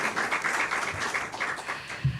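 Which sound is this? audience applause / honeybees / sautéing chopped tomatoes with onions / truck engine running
audience applause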